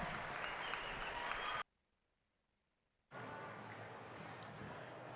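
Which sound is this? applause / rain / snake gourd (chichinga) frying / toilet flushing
applause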